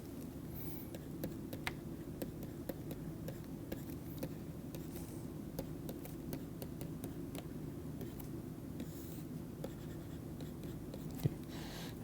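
Writing on a board during a heat conduction lecture, a steady run of close scratchy strokes and small taps with an intermittent low hum underneath and no talking.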